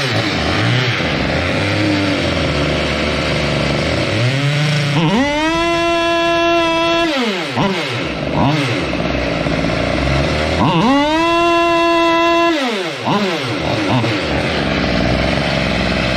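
A water-cooled two-stroke engine revs hard twice, each time climbing to a screaming, sustained high-rpm wail around 20,000 rpm before dropping back, close and loud with a rough idle between bursts.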